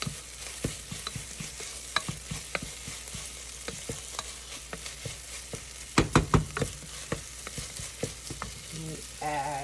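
Food frying in a pot, cooked until no longer slimy, with a steady broadband sizzle and scattered utensil clicks and scrapes, a cluster of louder knocks near the end.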